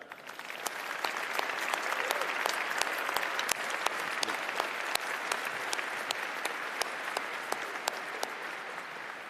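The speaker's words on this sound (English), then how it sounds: "please join me in giving a huge round of applause to our inspirational honorary awardees" A large graduation ceremony crowd gives sustained applause for honorary awardees, dense and even clapping that holds steady for the whole stretch, heard from within the hall with no voices over it.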